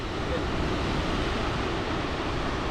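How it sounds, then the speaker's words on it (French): Strong wind roars steadily and loudly across the microphone on a hiking trail in Bali, a dense continuous rush with no clear voices. "Il y a du vent."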